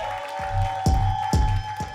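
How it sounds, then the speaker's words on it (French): Crowd at a live singing semi-final show applauding a contestant, with a few sharp claps and cheers standing out over a steady tonal hum. "Yochi, faites du bruit pour lui s'il vous plaît."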